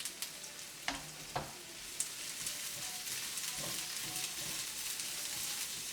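Green leek tops stir-frying in a pan for Sri Lankan tempered leeks, a steady close sizzle with a few sharp clacks of a utensil stirring and scraping, no talk.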